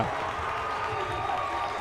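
Basketball crowd at a college championship game between UMPI and UMF roars steadily after a slam dunk, a dense, continuous wash of cheering and clapping filling the gym with no break.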